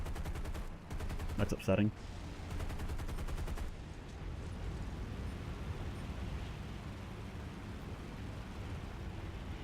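Rapid gunfire and booming artillery in the War Thunder air-and-ground battle rattle out in dense bursts over the first few seconds, then fade under a steady engine drone while someone briefly speaks.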